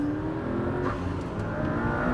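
A McLaren P1 accelerating down the back straight of a circuit, a steady loud engine drone heard from inside the car, with a whine rising gradually in pitch as it picks up speed.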